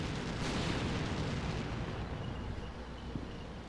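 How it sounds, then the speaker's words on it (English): Tank gunfire in the Combat Mission Black Sea war game: a dense, continuous roll of heavy booms and rumbling blasts, loud and sustained, easing slightly toward the end, with no talking. "Alright, we got some gunfire."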